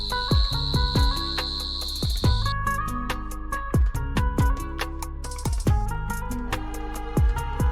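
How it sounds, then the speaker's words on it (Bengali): Crickets chirp in a steady, high trill among kans grass by the Kasai river, with a low throbbing rhythm pulsing underneath throughout. "ঝিঝি পোকার ডাক"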